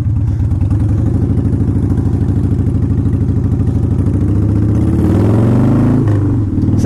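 Harley Davidson Softail Standard motorcycle engine runs close by with a loud, steady low-pitched pulse, then revs up briefly near the end before settling, no talk.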